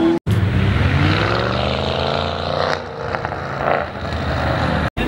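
A Lamborghini Aventador supercar engine revs loudly and steadily at close range, swelling to a couple of higher-pitched peaks mid-way, with short sharp cuts at the start and end.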